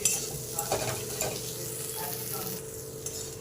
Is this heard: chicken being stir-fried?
yes